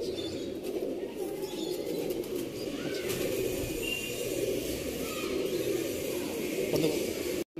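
Pigeons in a loft coo and rustle against a constant background murmur, with a few soft wing flutters. Indistinct voices sit low in the mix.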